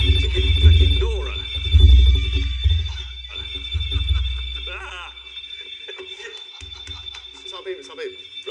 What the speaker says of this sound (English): That's just our alarm.